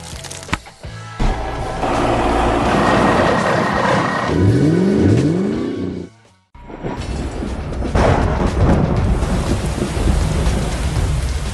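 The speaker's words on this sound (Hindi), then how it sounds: "शांत उपनगरीय गलियों में बारिश की फुहारें गिर रही हैं" Steady rain hisses down continuously on suburban streets, loud and close, with a low rumble and a brief drop-out before the downpour resumes.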